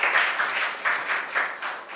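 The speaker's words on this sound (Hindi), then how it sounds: "तो इनके लिए ज़ोरदार तालियाँ बजाओ सब लोग" Audience at a student success event for an ICS course clapping enthusiastically, a dense, steady wash of applause with rhythmic swells, close and loud throughout.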